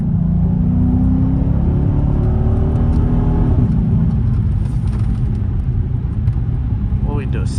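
A second-generation Dodge Charger accelerates hard at full throttle in first gear, its loud, rising engine roar continuous and close throughout, with a brief higher whine near the end.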